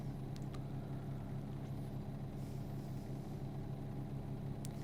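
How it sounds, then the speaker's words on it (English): A heavy truck engine in American Truck Simulator labours up a steep hill, a steady low droning rumble held at constant loudness throughout, with no talking. "Feels like a steep hill based on the sound of the engine."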